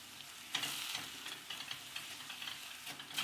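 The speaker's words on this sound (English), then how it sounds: "So we're just gonna cook this for like a minute." Chicken stir-fries in a hot pan with basil, chilies, garlic and oyster sauce, a steady close sizzle broken by repeated scraping and clattering strokes as the food is tossed and stirred, with no talk.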